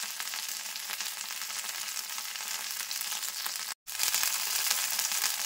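Pointed gourd (potol) slices frying uncovered in an open pan until crisp, giving a steady, close, dense sizzle and crackle that drops out for a split second before resuming just as loud.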